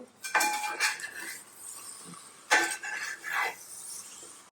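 Tuna and tapioca roast stirred in a pan, with two bursts of metallic scraping and clinking from a spatula against the pan, separated by a short pause, fairly close and with no talk.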